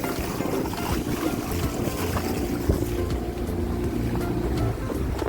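A small boat cruising at sea off Malta, giving a steady low engine rumble mixed with wind and water wash, constant and moderately loud with no voices.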